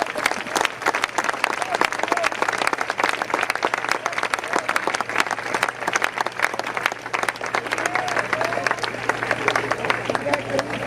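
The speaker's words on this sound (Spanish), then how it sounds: "Dele un fuerte aplauso al Señor." A church congregation applauds continuously for about eleven seconds, a thick, even clatter of many hands over a steady low hum, with faint voices mixed into the crowd noise.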